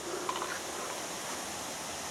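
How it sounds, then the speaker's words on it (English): The waterfall at Wild Dog Falls in the Otways is a faint, steady hiss of rushing water heard from a distance along a bush trail, with no distinct splashes standing out. "you can actually hear the waterfall."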